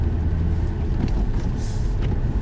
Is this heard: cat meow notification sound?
no